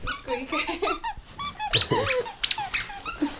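A small dog chews a squeaky toy while lying on a bed, producing rapid, high-pitched squeaks in quick bursts, close and loud, with faint grumbling between them.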